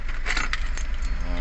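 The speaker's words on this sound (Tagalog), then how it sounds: "dalawang susi, dalawang remote." Two car keys with their remotes for a 2016-2020 Mitsubishi Montero Sport jangle together continuously in a close, bright metallic rattle, heard alone without talk.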